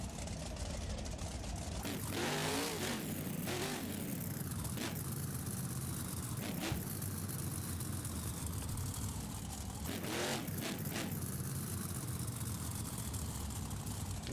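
A monster truck named Monster Mutt in a BeamNG video game, its engine droning and revving in steady mid-level waves with a few sharper surges, a commentator talking over it throughout.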